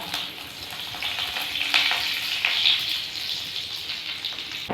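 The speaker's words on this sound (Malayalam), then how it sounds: "കടുകൊന്ന് പൊട്ടി തുടങ്ങിയിട്ടുണ്ട്" Steady crackling sizzle of mustard seeds spluttering in hot oil, close up, with scattered sharper pops and no voices.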